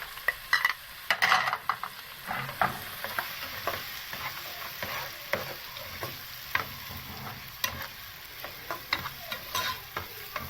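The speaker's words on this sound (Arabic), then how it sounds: "هحمرها لحد لما البصله دي تصفر معانا" Finely chopped onions fry in a pan with a steady sizzle, close by, broken by repeated clicks and scrapes of a utensil stirring them. No one speaks.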